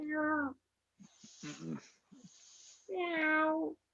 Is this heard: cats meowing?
yes